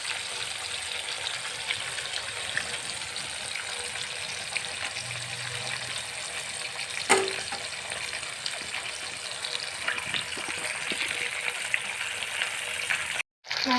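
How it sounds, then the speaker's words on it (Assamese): Pieces of fish fry in hot oil in a heated wok, giving a continuous loud sizzle and crackle with a brief clatter partway through and a sudden cut near the end. "কেৰাহী গৰম হোৱাৰ পিছত তেল গৰম কৰি মই এয়া মাছখিনি ফ্ৰাই কৰি লৈছোঁ"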